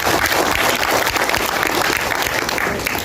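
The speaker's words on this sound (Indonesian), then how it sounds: "Luar biasa, aplaus buat kita semuanya." Applause from an audience at a political party gathering in Bali, a dense, loud clatter of clapping hands that stays steady and close throughout, with no pauses.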